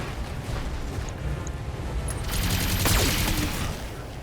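Mech in the BattleTech video game hosing a Dragon mech with bullets: a dense, continuous rattle of gunfire and impacts that swells louder midway, with a faint voice barely present.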